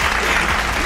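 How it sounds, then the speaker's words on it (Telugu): A dense, loud burst of clapping from a studio audience during a funny question-and-answer game show, lasting under a second with no voices over it. "కోంబ. Super claps."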